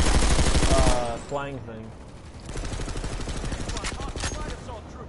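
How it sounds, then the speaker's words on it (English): Rapid machine gun fire in the PlanetSide 2 video game, dense bursts of automatic shots close by, with a player talking over the shooting. "Yeah, that's the machine guns."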